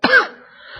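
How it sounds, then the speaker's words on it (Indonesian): A single sharp, close cough with a throat-clearing edge from a person working at a computer, loud and brief, fading into quiet room tone. "Batuk terus ini."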